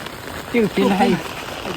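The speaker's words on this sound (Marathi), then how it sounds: "भिजणार आहे आता खूप भिजणार आहे पावसामध्ये" Steady rain from a cyclone hisses throughout, with a nearby voice speaking briefly over it in the middle.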